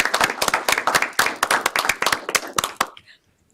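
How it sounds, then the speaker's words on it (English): A small audience at a park board meeting claps for roughly three seconds, each individual clap sharp and distinct in a quick uneven patter, then it stops abruptly and leaves near silence. "So can we clap?"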